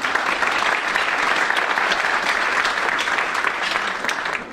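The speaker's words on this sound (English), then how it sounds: "Can we give them a round of applause?" A breakfast meeting audience of the Queen Anne's County Chamber and Board of Education gives a steady, full round of applause, many hands clapping densely together for several seconds without talk over it.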